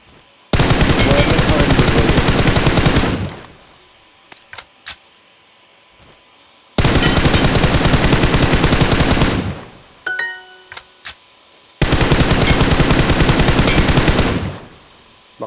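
Full-auto bursts from an M4 rifle with no attachments in PUBG, three long loud sustained strings of fire separated by pauses with a few single shots and clicks between them.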